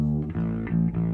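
A bass guitar plays sustained low notes, with a slightly wavering, thickened tone that suggests a chorus effect, changing pitch a few times.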